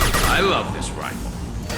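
Rifle shots and mechanical weapon handling ring out in the sci-fi shooter Mass Effect 2, a short, close burst with metallic clatter under a voice.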